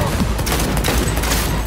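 Rapid gunfire from a firefight in the video game Cyberpunk 2077 sounds as a loud, dense, continuous burst of overlapping shots with no pauses.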